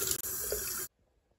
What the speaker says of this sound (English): I'm gonna just go fill this up with water